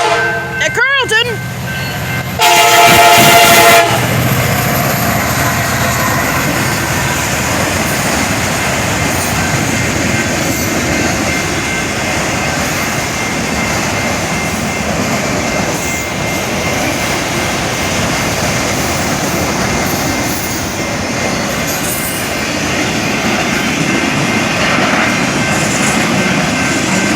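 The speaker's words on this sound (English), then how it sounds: "train here at Wade, and this one is gonna be stopping" A train passing a level crossing at Wade on a highway, on its way to a stop at Carlton. Loud horn blasts sound in the first few seconds, then a steady, sustained rumble of rolling railcars carries on to the end.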